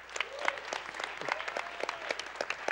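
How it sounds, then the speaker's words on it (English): An audience at a speedrunning marathon claps steadily, a scattered round of applause of moderate loudness with no voices on top. "So give them a round of applause."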